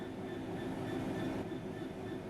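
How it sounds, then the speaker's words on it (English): A diesel train in Train Sim World 5 rumbles along as it brakes, with a steady low rolling drone and faint high whine, continuous and fairly quiet. "Bring this train to a complete stop by holding the brake control in the apply state"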